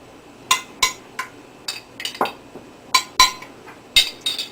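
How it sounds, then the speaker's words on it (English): A spoon clinks and scrapes against a casserole pan while spaghetti sauce is dished into it for a small-scale family lasagna, giving a string of about a dozen sharp, close metallic taps in uneven bursts with no talk. "We're going to spoon some spaghetti sauce into the bottom of the pan."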